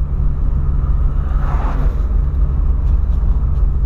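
VW Polo car accelerating hard past 100 km/h on a road through dense forest, a steady loud engine rumble and road roar from inside the car, with no talk.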